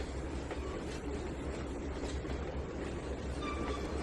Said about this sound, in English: Uh-oh, that train's slowing down.